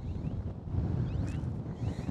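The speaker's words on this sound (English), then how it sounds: "See, it's a little too windy here." Steady wind buffeting the microphone outdoors on a golf putting green, a continuous low rumble with gusts that swell and ease throughout, no voices.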